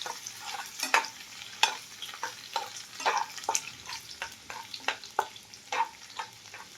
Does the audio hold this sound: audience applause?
no